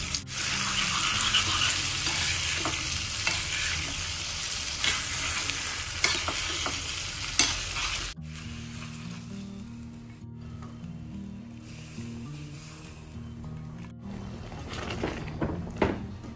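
Capsicum frying in a pan for khichdi: a bright, loud sizzle with stirring for the first half, then a quieter, softer frying with occasional scrapes and clicks.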